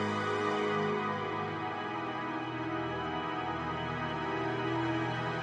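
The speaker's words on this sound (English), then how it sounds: "Nice kind of like string section here." A string section plays a slow chord progression in a chill production session, sustained layered tones that shift smoothly from chord to chord, soft and steady with no voices.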